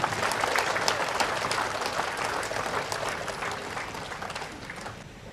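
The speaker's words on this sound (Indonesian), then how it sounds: "Mari kita beri tepuk tangan yang meriah." Sustained applause from an audience at an International Anti-Drug Day ceremony in Makassar, a dense steady clatter of many hands that slowly tapers toward the end.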